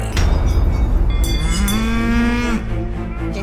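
Cattle mooing outdoors in Niigata, Japan: one long, loud, rising low moo dominates over a rumbling background of wind and farm noise, with no talking.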